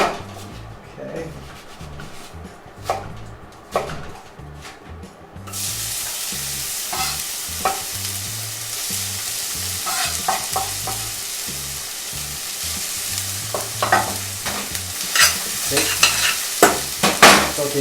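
Onion sautés in extra virgin olive oil with a steady close sizzle under repeated scraping and stirring strokes in the pan, the frying growing brighter and louder partway through.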